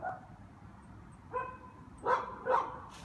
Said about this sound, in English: You're barking at the wrong fence.